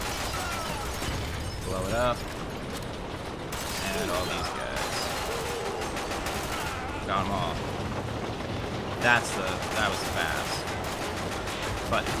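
Gunfire and explosions from the Quantum of Solace video game on PC form a dense, continuous barrage of bursts and booms, with a louder blast standing out near the end under steady game noise.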